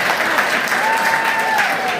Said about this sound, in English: First clap for me one more time.